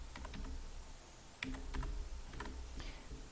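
Quick bursts of key presses on a computer keyboard as a short code is typed in, close and crisp clicks in small irregular clusters with brief pauses between.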